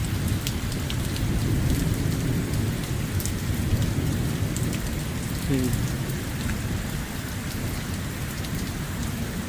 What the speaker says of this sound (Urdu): ایسے ہی لگتا ہے جیسے کوئی شدید قسم کا کلاؤڈ برسٹ ہونے والا ہے.